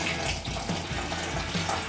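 Water pours steadily from a tap into a container for homemade bread dough, a continuous close splashing rush with no pauses and no voices.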